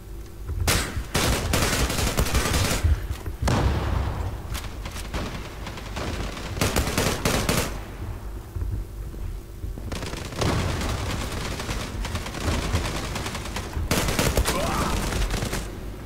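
Gunfire in the online shooter Zula: dense bursts of automatic fire and single shots in rapid clusters, loud and close, broken by short lulls, with no talking over them.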